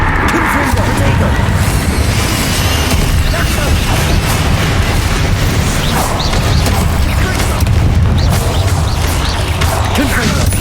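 Explosive blasts from a Confringo spell in Hogwarts Legacy, loud repeated booms and crashes within a dense, busy battle mix of spellfire and effects, with a voice talking over them.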